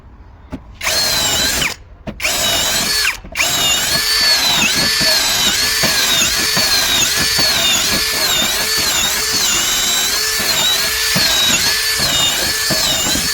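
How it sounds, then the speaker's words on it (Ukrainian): A Procraft PA 18 cordless drill fitted with a Haisser metal bit bores holes in wood, whirring loudly in short bursts at first and then running continuously with a rhythmic, cyclic strain as the bit bites through the wood. "Розсверлим отвір, який має 4 е, мм в діаметрі до 10 Катуємо хайзер далі. 10 отворів просверлимо в дереві."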